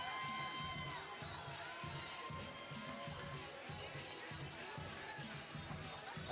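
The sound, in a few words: crowd of women screaming and cheering for a fighter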